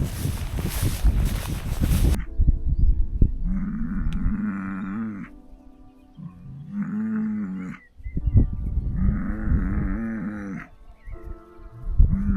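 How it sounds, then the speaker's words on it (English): Cattle in a field moo several times in long, drawn-out calls separated by short pauses, fairly close and clear, after a brief burst of rough noise at the start. "There were curious cattle watching my progress throughout the day"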